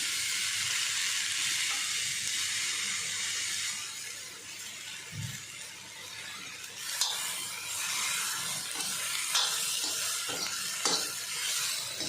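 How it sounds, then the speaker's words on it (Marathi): Cluster beans (gavar) sizzle and crackle steadily in hot oil in a pan, a close continuous hiss with a few sharper pops and stirring scrapes, no voices. "ही गवार भाजून घेते"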